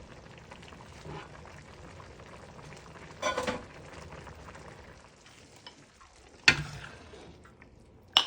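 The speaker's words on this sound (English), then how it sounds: "Just let that simmer for about 8 minutes." A pot of gluten-free chicken noodle soup simmers with a soft, continuous bubbling and faint sizzle, broken by a couple of brief louder clinks or stirs.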